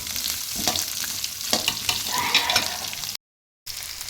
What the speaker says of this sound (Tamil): பெரிய வெங்காயத்தை ஆட் பண்ணி கொஞ்சம் நேரம் ஃப்ரை பண்ணுங்கள் அதே ஆயிலில்